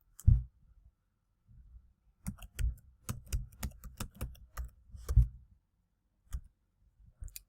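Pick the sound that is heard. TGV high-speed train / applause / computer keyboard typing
computer keyboard typing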